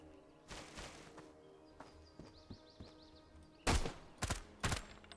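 Gunfire in the shooter video game Back to Vostok: a few sharp shots ring out, then a louder close cluster of three quick cracks near the end, over quiet ambient game sound and faint music.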